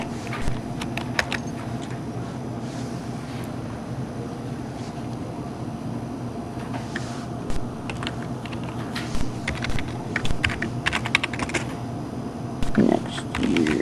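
Light, scattered clicks of typing on a computer keyboard sound faintly beneath a steady background hum while text is entered for a magazine cover.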